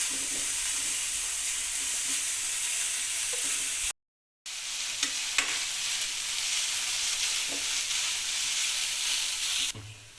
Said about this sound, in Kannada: ಹಸಿಮೆಣಸಿಗೆ ಫ್ರೈ ಮಾಡ್ಕೋಬೇಕು ಚೆನ್ನಾಗಿ, ಹಸಿ ವಾಸನೆ ಹೋಗೋ ತನಕ